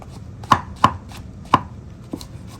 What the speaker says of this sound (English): I'll give you time while I'm getting the mushrooms cut up